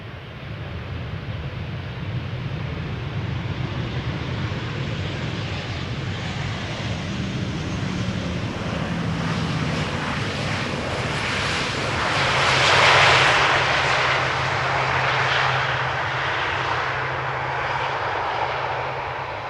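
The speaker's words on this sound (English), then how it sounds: "KLM flight 1004, arrival from London Heathrow," Arriving at Amsterdam Schiphol Airport, a KLM Boeing 737-800 passes with a loud, continuous jet roar that swells to a peak near the middle and then holds as it recedes, no voices present.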